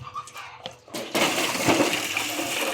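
After a few faint knocks, water from a well gushes out of a bucket in a sudden rushing splash that continues steadily, close by.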